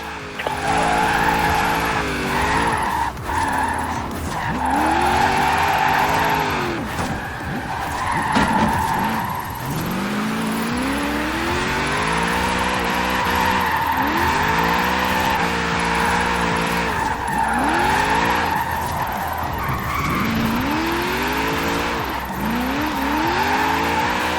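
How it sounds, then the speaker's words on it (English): A car drifts in the Forza Horizon 4 racing game, its engine revving in rising and falling sweeps while tyres squeal and skid almost continuously, loud and close, with no voices. "Now let's really shred those tyres."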